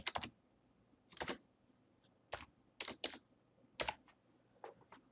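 Someone types a login email and password on a computer keyboard, with short, close bursts of clicking keystrokes separated by brief pauses.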